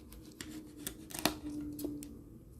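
A knife slices through a dragon fruit, trimming off the edges with a few crisp, short cutting strokes and one sharper snap midway, close up in a quiet room.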